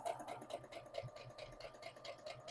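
A sewing machine stitches daisy lace onto a jeans hem, a soft steady whirring with a rapid repeating needle rhythm, faint and continuous throughout.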